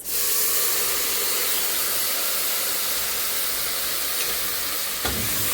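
Moghrabieh pearls stirred in a pot of boiling broth give a steady, loud bubbling hiss that holds evenly throughout, with a faint scrape of the spoon near the end and no talking.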